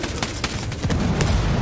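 Gunfire in Ghost Recon Wildlands, a brief loud stretch of rapid overlapping shots and booms, dense and close, growing heavier toward the end.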